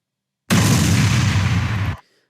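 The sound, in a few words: explosion sound effect played back in CapCut editor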